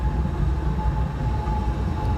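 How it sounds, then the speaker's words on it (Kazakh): Uzbekistan branded passenger train hauled by a diesel locomotive at Turkistan station, a steady low rumble with a faint tonal whine throughout, continuous and moderately close. "Ал біздің тепловозымыз, павлодардың пойызы Өзбекстан деп аталады."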